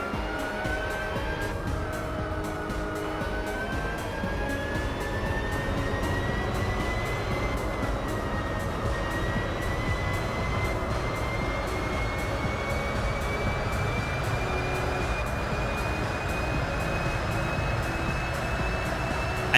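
A car engine in Gran Turismo 4 roars loud and continuous, its pitch rising slowly through a long pull with a brief dip near the start, close and alone.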